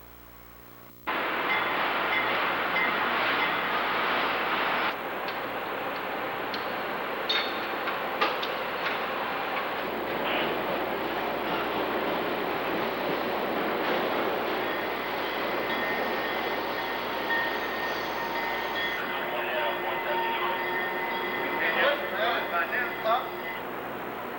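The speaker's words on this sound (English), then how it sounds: "an E60 electric is attached to the rear to haul the train backwards to New York City" A 1990 passenger train, hauled backwards toward New York City by an E60 electric locomotive, rolls along with steady rumbling, clicking wheels and occasional squeals, fairly loud and continuous.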